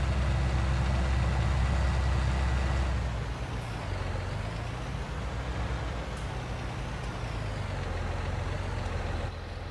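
A tractor engine in the video game Farming Simulator 2019 runs steadily, with a low diesel drone and rumble that shifts in pitch as the machine maneuvers, loud and continuous with no speech.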